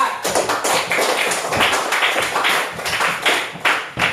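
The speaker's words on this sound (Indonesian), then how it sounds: "Beri aplaus untuk kelompok 4" A classroom group claps for the fourth presenting group, a brisk, uneven run of close hand claps that carries on steadily throughout, with no talking.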